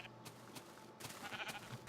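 Sheep in the Minecraft video game bleat in short, faint calls, several repeated over a quiet background with soft game sounds.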